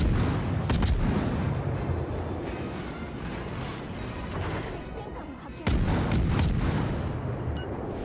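Naval guns boom in a World of Warships battle, heavy reports hitting near the start and again past the midpoint over a dense rumbling battle din, with a player talking faintly underneath.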